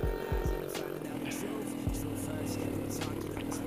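A Honda Biz motorcycle with a modified exhaust pipe revving in GTA San Andreas, a low engine drone with sharp rising revs near the start and again midway, under someone talking.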